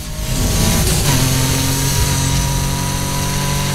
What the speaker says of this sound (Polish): w zależności od tego, z której strony jest wydech, to brzmi inaczej